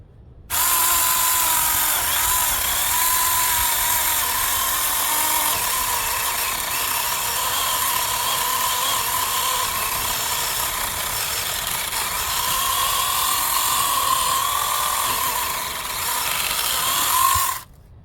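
Battery-powered saw cutting wood at a wild camp, a loud, continuous motor whine holding steady for about seventeen seconds before stopping abruptly, with no talking.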